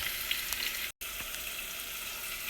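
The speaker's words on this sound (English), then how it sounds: "you can see the onions and the garlic are being cooked" Onions and garlic fry in a pan with a dense, steady sizzle, close and even throughout, with a few faint utensil ticks and a brief dropout near the start.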